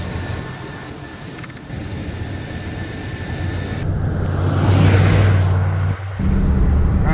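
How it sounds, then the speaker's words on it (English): An old restored truck cruises at highway speed, its steady engine drone and low road rumble building and holding, with a brief dip near the end. "we're back on the road, cranking her up to highway speeds"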